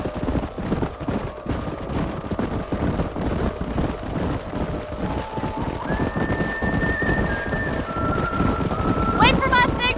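Horses trot and neigh while being driven up a narrowing canyon in the Red Dead Redemption video game, with steady clip-clop hoofbeats under wind noise and a high whinny near the end.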